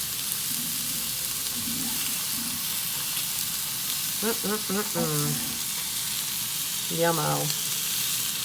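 Onions sizzling steadily on a hot grill for turkey burgers, a close, even hiss throughout while someone speaks briefly over it.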